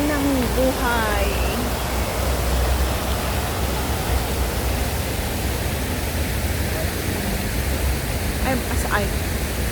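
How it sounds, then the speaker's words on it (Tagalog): A garden fountain in Chater Garden, Hong Kong, streams in a dense, even hiss of falling water that stays close and loud throughout, with brief faint chirps and voices near the start. "Ang ganda ng agos ng tubig."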